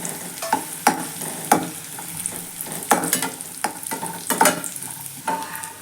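Cashews and raisins frying in hot ghee in a pan, stirred with a spoon: a steady sizzle broken by repeated sharp scraping strokes at an uneven pace, close and fairly loud, with no voices.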